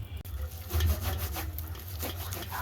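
Palm fruit seeds rubbed and squeezed by hand with a little water, a close, continuous soft wet rasping and squishing with small irregular scrapes, fairly quiet with no talking.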